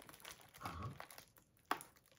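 A booster pack from a Style de Combat display being opened: a brief, close crinkle of the foil wrapper followed by a short, sharp tearing snap.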